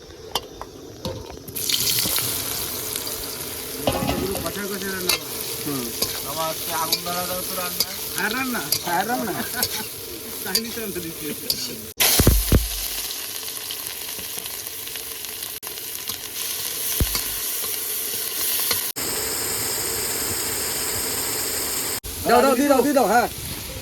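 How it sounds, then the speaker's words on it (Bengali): Soya chunks fry in hot oil in a home kitchen pan, giving a steady close sizzle with repeated scraping stirs of the spoon, brief running water near the end and faint voices in the background. "এবার ভেজে নেবো সবিনটা"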